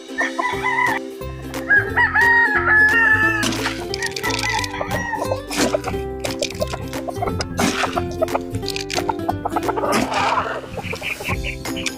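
Native roosters tied up on a Filipino backyard farm crow loudly and repeatedly, one call overlapping the next, with clucking hens and scattered clatter and dripping sounds around them.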